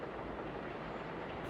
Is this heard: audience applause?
no